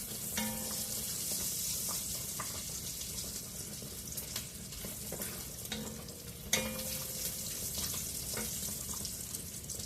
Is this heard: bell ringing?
no